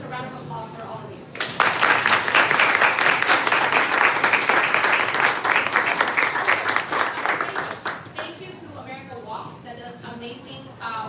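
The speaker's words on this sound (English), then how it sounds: "a round of applause for all of you." A burst of loud crowd applause and clapping at a panel discussion event swells and holds for several seconds, then fades as a speaker resumes talking.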